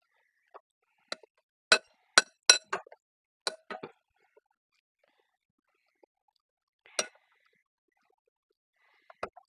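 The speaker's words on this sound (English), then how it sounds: "We are going to add in our milk now and get that all mixed up" A utensil clinks sharply against a bowl in short bursts, with quiet gaps between them, as mashed potatoes are mixed with milk for a chocolate potato cake.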